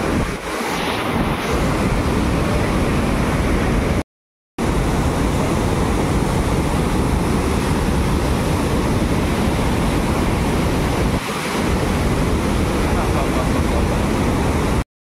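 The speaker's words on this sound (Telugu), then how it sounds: "గాలి వానలో వాన నీటిలో గేట్లు లేపినారు. బాబా ఇప్పుడు ప్రవహిస్తుంది మంచిగా." Rainwater roars through raised dam gates during a heavy windy downpour in Telangana, a loud, constant rushing wash with wind buffeting the microphone, broken by one brief dropout.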